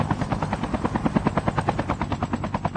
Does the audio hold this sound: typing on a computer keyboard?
no